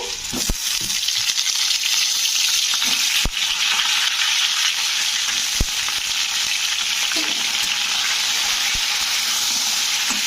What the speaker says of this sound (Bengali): বেগুনগুলো দিয়ে আমি ভাজবো